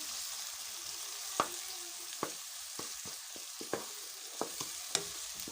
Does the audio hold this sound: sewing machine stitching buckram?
no